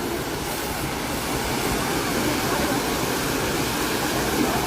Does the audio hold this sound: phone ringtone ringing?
no